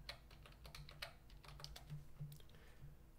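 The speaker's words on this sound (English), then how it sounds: "typing in a password." Someone types a password on a computer keyboard: quick, uneven key clicks in short bursts, close and fairly quiet, with no talking.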